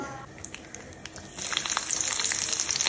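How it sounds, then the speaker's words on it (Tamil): Mustard seeds and chopped shallots sizzle in hot oil in a kadai, a steady crackling hiss that grows louder partway through and stays bright and close, with no talking. "ஒரு கடாயில் எண்ணெயை சூடானோன்னு கடுகு, சின்ன வெங்காயம் சின்னதாக கட் பண்ணி சேர்த்து"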